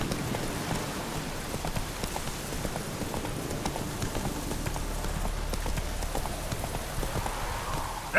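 Roach, Geralt's horse in The Witcher 3, gallops with steady rhythmic hoofbeats over a rain-like patter of game ambience, moderately loud and continuous with no one speaking.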